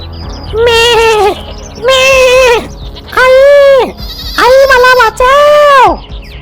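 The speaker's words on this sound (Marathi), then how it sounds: "बकरीचे पिल्लू घाबरले आणि आईला हाक मारायला लागले" A goat kid bleats for its mother: five loud, close, drawn-out cries in quick succession, each separated by a short pause.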